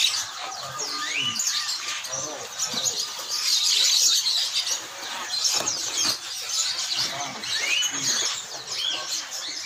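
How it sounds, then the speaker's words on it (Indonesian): Myna and other caged birds chirping and calling at a bird market kiosk, a busy layered mix of tweets and whistles, some loud bursts close by, continuing without pause. "Wah, ada beo."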